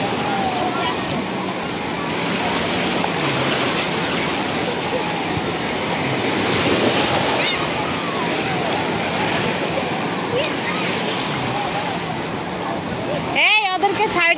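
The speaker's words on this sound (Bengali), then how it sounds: "দেখছো কি ঢেউ।" Sea waves breaking on the beach at Cox's Bazar, a steady broadband wash and surge running throughout under people talking and crowd noise close by.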